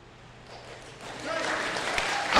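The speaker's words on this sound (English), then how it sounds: "Applaud yourself" An audience at a town hall meeting in Hunterdon County, New Jersey, begins clapping softly. The applause swells louder and denser after about a second, then holds steady.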